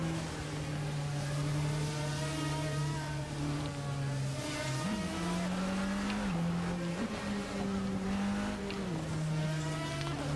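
A GT Ferrari race car in the Project Motor Racing sim roars with a steady, loud engine note, dipping and jumping through a couple of quick gear shifts as it holds speed.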